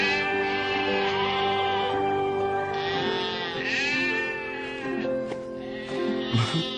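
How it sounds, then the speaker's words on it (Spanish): Sheep in a flock bleat loudly and repeatedly in long, wavering cries close by, with no talking over them. "Cuida las ovejas."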